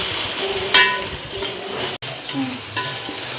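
Onion, tomato and green chili frying in oil for chicken biryani get stirred in a pan, a steady sizzle with scraping strokes of the spoon close by.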